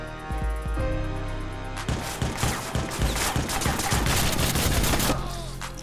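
Rapid video game gunfire from Watch Dogs: a few isolated shots, then a dense, loud burst of overlapping automatic fire and impacts over a steady game backdrop.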